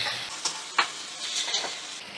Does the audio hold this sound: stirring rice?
yes